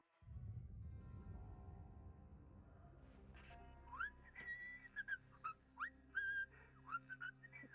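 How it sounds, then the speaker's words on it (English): A person whistles right into a microphone, producing a series of short, bright notes with rising and falling glides after a low rumbling start. The whistling is close and clear. "Gotta love whistling right into a microphone."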